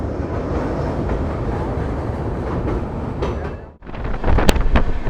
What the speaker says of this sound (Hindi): नीलांचल एक्सप्रेस से क्रॉसिंग हो रही है अपनी।